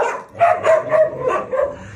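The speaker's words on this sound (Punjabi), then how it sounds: "ਮੈਨੂੰ ਭੌਂਕ ਰਿਹਾ ਤੇ ਪਿੱਛੋਂ ਵੇਖੋ ਦੂਏ ਜਾਨਵਰ ਸਾਰੇ ਇਹਨੂੰ ਸ਼ੁਰੂ ਹੋ ਗਿਆ ਬੋਲਣਾ" A dog near a cage barks several times in quick, close, loud bursts, with other animals around and soft whimpering tones between barks.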